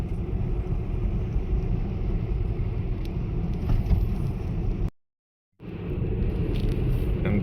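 Tesla car driving on a road near a tunnel, with a steady low road and tyre rumble heard from inside the cabin that drops out briefly, then resumes with no voices.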